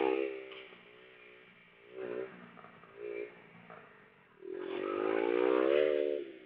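A low-powered motorcycle engine during wheelie training, heard from a distance as a faint droning hum that surges in short revs before rising into a longer sustained throttle-up near the end.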